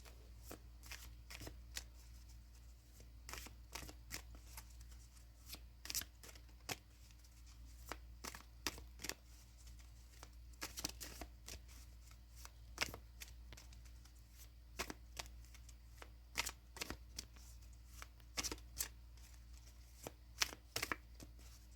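Tarot cards shuffled in steady bursts of sharp riffling snaps and soft slides, close and fairly quiet over a low background hum, with no talking.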